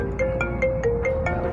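A mobile phone ringtone plays a steady repeating electronic melody of short tonal beeps, fairly loud and close, heard alone over a low background hum.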